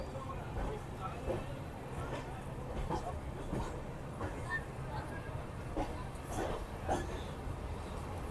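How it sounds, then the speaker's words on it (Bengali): Sairang Express passenger train running on the rails near Krishnanagar, a steady low rumble and rattle of the coaches with occasional clanks, continuous and fairly close, with people talking over it. "আর ট্রেন কিন্তু দারুণ টানছে, দারুণ হেভি টানছে ট্রেন"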